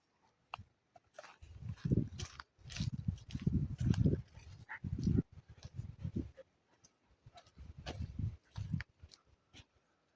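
A dog on a nature trail walk at Thompson Water makes close panting, snuffling and scuffling sounds in uneven bursts against quiet outdoor surroundings.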